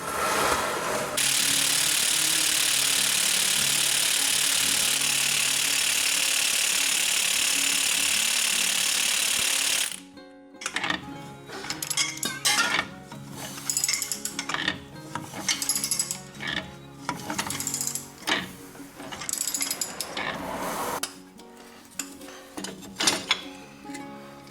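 A ratchet works loose the four rusted U-bolt nuts on the leaf spring plate of a 1999–2004 Nissan Xterra, with a long steady grinding run and then a stretch of irregular clicking and scraping bursts, close by with no talk.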